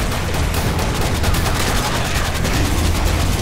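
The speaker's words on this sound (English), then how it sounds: "He's just shooting right now." Rapid, continuous gunfire from the Killing Floor video game during a Berserker/Bulwark wave on the PoconoXmas map, dense and loud throughout with no gaps, sounding like sustained automatic shooting.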